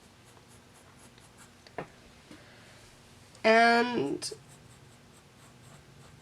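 A graphite pencil sketches on paper, giving soft scratches and short strokes close by, while a voice briefly speaks over it.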